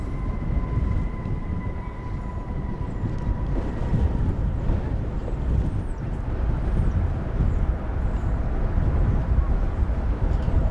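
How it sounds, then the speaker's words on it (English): A passenger jet arriving from Los Cabos at DFW Airport, a loud, steady low roar with wind buffeting on the microphone and a faint tonal whine, heard outdoors without speech. "That's a flight from Los Cabos."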